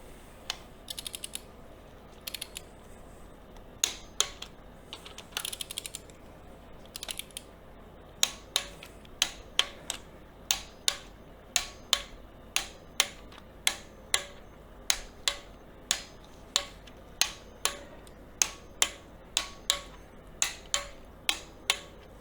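Torque wrench tightening cylinder head bolts on a BMW E28 535i, a long series of sharp, evenly spaced ratchet clicks, sparse at first and then settling into a regular close-up rhythm, with no talk over them.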